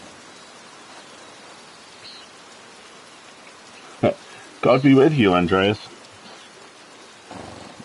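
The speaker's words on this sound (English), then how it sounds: "Look at the rain." Steady rain hiss in the video game Pentiment runs throughout, with a brief sharp crack and a low rumble toward the end; someone speaks a short line over the rain partway through.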